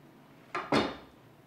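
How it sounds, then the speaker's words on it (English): A knife cuts an Italian rotolo in half: two short, close knocks land a fraction of a second apart, the second louder and longer, with quiet all around. "So let's see which knife will be best. I'm going to cut it in half first."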